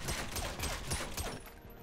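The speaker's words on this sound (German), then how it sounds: "ich höre da Schüsse" Rapid bursts of gunfire in GTA 5, dense and continuous, fading slightly toward the end; no talking.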